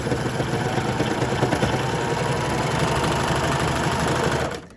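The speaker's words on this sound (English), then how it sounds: "And I'm just going to serge off." A serger overlocking the edge of fabric for binding, running in a steady, fast mechanical whir close by for several seconds before stopping abruptly, with no talking.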